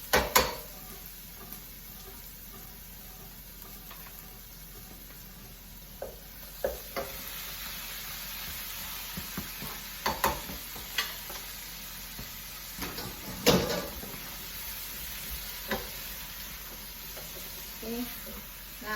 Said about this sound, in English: See, now the green pepper, the red pepper, onion, garlic, they all saute together.